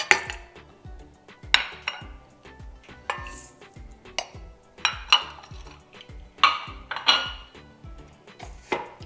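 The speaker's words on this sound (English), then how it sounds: "So we are going to mix 2 sugars together in the bowl." Two sugars are mixed together in a bowl for chocolate chip cookie dough, giving a spoon's repeated, rhythmic clinks and scrapes against the bowl at close range, with no talk.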